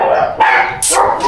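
A large, sturdy pet dog barks three times in quick succession, loud and close, each bark sharp and full with short gaps between.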